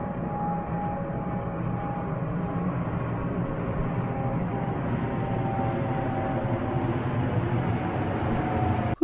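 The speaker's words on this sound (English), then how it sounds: "here's the 6 a.m. Johannesburg flight" An airliner on the early-morning Johannesburg flight passes overhead, making a constant loud jet roar with a faint whine running through it for about nine seconds, with no talking.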